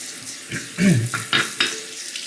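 Running tap water splashes over the holder of a Shapton 1500 sharpening stone during a rinse, a close, steady gush with a few louder spatters as it is moved under the stream.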